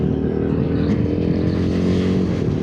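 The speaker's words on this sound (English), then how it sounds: "Let's try clutchless upshifts and downshifts." A 2026 Royal Enfield Himalayan motorcycle riding under steady engine drone and road noise, with the gear changes not clearly set apart in the brief, constant roar.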